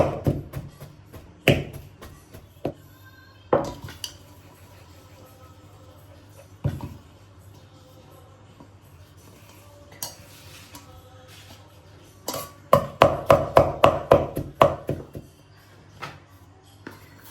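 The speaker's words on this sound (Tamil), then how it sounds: "இப்படியே எல்லாத்தையும் கொத்தி எடுப்போம் அதே போல் இதையும் கொத்தி எடுப்போம்" Steamed puttu being broken up and crumbled in a pot for fried egg puttu: scattered utensil taps and knocks, then a close burst of rapid clattering strikes near the end.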